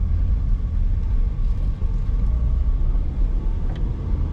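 Perodua Myvi 1.3 SE automatic, a 2014 car, runs with a steady low engine rumble throughout, loud and close with no talk.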